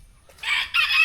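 A fighting-breed rooster crowing close by, one short, loud, bright crow in two rising bursts with nothing else heard.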